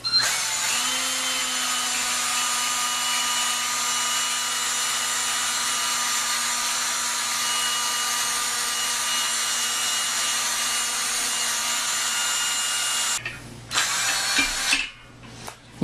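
An electric drill spins a long-shafted degassing paddle inside a carboy of homemade wine, a loud steady whine held for about thirteen seconds before stopping, followed by a few short clattering bursts.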